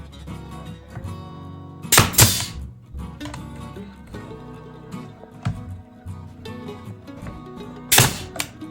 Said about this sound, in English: I'm gonna take the nail gun